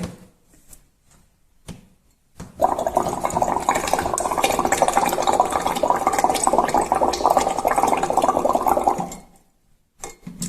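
Bubbles blown steadily into water through exhalation during a breathing exercise, a continuous close bubbling and gurgling that lasts about six seconds after a few faint breaths, then stops.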